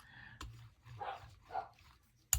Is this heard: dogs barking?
yes